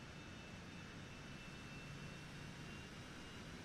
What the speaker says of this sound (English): You can hear the engine spooling up,